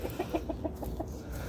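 Chickens give a quick series of soft, close clucks while being petted, about half a dozen short calls in a loose rhythm over a faint background.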